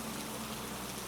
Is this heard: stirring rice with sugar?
no